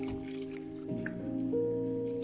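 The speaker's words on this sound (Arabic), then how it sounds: "باش نضيفوا شوية ماء،" A little water poured into a cooking pot on the stove while preparing a spinach and beef stew, a close, steady trickling and dripping with shifting tones as the pot fills, no talking.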